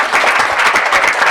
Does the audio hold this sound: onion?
no